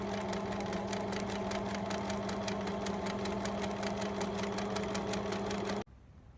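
A sewing machine stitches a school bag, a fast steady mechanical whirring that runs continuously up close, then stops abruptly near the end, with no talking.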